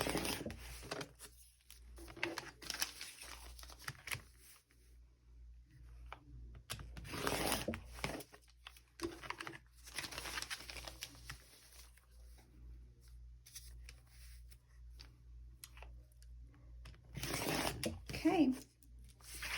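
Paper foundation backing being torn off the edges of a log cabin quilt block, with several bursts of ripping and rustling over roughly twenty seconds between quieter handling noise, a voice faintly present.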